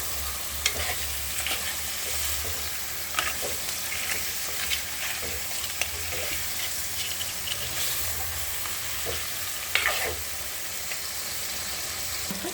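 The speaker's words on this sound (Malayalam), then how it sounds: "ഇത് നമുക്ക് ചട്ടിയിലേക്ക് ഇടാം. ഞണ്ട് എണ്ണിട്ടിട്ടുണ്ട്. നമുക്ക് ജസ്റ്റ് ഇളക്കി കൊടുക്കാം." Washed crab stirred in hot oil in a clay pot, a constant close sizzle and hiss broken by repeated scraping stir strokes, with no voices.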